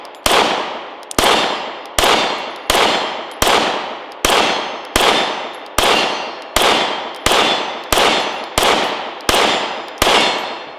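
Kiger 9mm pistol firing at an outdoor range from 25 yards with a Glock magazine, a steady series of about a dozen sharp, loud, close shots spaced roughly a second apart, each with a short decaying ring.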